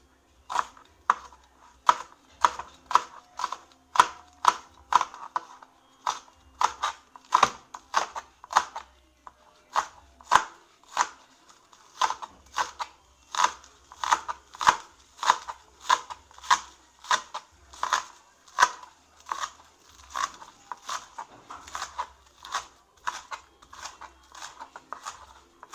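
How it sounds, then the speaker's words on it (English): A knife chops scallions on a cutting board in a long run of crisp, regular knocks, roughly one or two per second, close and clear with short pauses between bursts. "we wash our scallion and then get them on the cutting board and the cutting starts"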